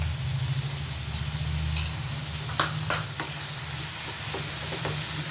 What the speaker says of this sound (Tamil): தக்காளி சேர்த்து ஒரு 5 நிமிஷம் கழித்து இஞ்சி பூண்டு பேஸ்ட்டு சேர்த்துக்கோங்க.